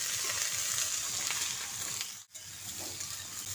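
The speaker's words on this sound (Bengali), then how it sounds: "তারপর শিম, বেগুন, আলু একসঙ্গে ভালো করে একটু ভেজে নিচ্ছি।" Broad beans, eggplant and potato frying together in a pan, giving a loud, dense, steady sizzle. There is a brief dip near the end as they are stirred, then the sizzle resumes. There is no talk.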